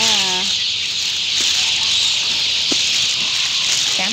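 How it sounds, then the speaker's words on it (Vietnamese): A flock of farmyard chickens feeds from a basin of prepared food, giving soft scattered clucks and a brief call at the start, set against steady loud broadband noise. "Mình sẽ qua cái đàn gà ăn nè các bạn."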